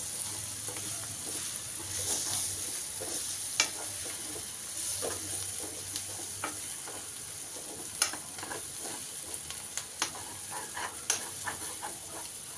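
Sliced karela (bitter gourd) sabji fries in hot oil in a pan, a steady sizzle broken by scattered crackles and pops and occasional stirring clicks, with no voices.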